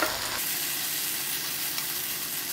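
Tobanjiang chili bean paste, about three tablespoons, sizzles steadily in a hot pan for mapo tofu, a dense, continuous frying hiss held close and loud with a brief sharper burst at the start, no voices.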